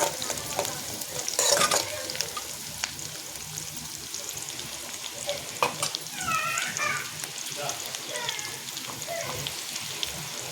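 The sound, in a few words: stirring curry leaves frying in a pan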